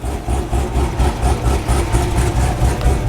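A Corvette Z06 engine running nearby, a loud deep rumbling idle with a rhythmic low throb and slight surges, steady and close for a few seconds with no talking.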